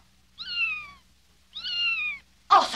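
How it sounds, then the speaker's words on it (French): A cartoon cat gives two clear, drawn-out meows in a quiet room, spaced about a second apart, followed by a sudden burst of noise at the end. "C'est le chat qui miaule."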